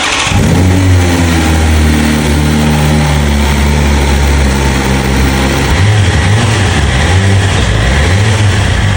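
A BMW M1000XR sport motorcycle engine revs loudly up close, its pitch climbing and falling through several throttle blips before settling into a rough idle.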